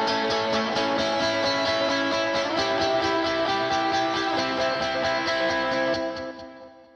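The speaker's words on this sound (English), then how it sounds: "Then I've put it through my amp plugins, maybe added some compression and some 8th note delays" Layered electric guitars run through amp plugins with compression and eighth-note delays form a dense, sustained wall of chords, steady and loud throughout before fading out near the end, with no voices.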